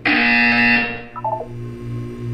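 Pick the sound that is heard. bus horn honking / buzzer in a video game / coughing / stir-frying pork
buzzer in a video game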